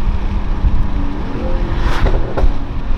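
Chiptuned Mercedes AMG GT 43 (470 PS, 620 Nm) engine revs close by, a steady loud rumble rising into two short sharp throttle blips near the end, no talk.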